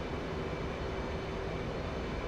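Steady, even jet engine roar of an F/A-18C Hornet in a flight simulator game during air-to-air refuelling, a continuous broadband drone with a faint tonal hum and no voices.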